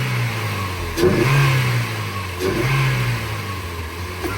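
A Mazda MX5 fitted with performance mods revs hard twice over a loud, close idle, each blip rising and falling away, with no talking.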